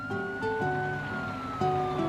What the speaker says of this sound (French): Elles laissent passer la voiture de police et l'ambulance.